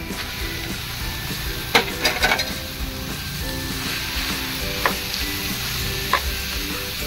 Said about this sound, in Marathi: आपण आता याच्यामध्ये किसलेला भोपळा टाकू